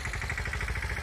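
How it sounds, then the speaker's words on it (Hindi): A small Mahindra 215 tractor engine runs steadily in a guava orchard, a low, even, pulsing thrum heard on its own at moderate distance. "पीछे आपको एक साउंड सुनाई दे रहा है, वो बेसिकली एक छोटा ट्रैक्टर है।"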